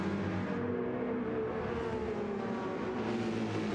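Racing cars lapping the Fuji circuit in a sim racing multi-class endurance series, with a steady loud engine drone and revving whine that swells and shifts pitch as cars run together, no talking.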